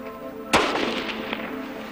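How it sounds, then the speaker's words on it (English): A single sharp distant gunshot cracks across an icy landscape, fired at a seal, followed by a fading echo and a fainter second report. "the pot shots continued as we tracked it for over 3 hours"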